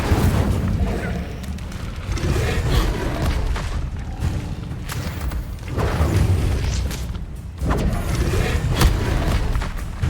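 Fire spells cast in Hogwarts Legacy, a video game, burst as loud whooshing booms and thuds in rapid succession, with dense roaring blasts layered over a continuous rumbling battle background.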